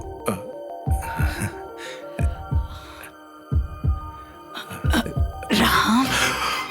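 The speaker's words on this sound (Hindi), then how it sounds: "ये जो इनकी धड़कन सुनाई दे रही है वो स्पीकर में लगे वूफर जैसी लग रही है ना?" A heartbeat thumps in steady, deep, booming pulses like a speaker woofer, loud and close, with a breathy rush near the end.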